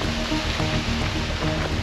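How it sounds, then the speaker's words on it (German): Water splashing from a small waterfall in a French forest, a steady broadband wash of moderate loudness with no talking, heard from a short distance away. "Und man kann schon im Hintergrund ein bisschen plätschern hören."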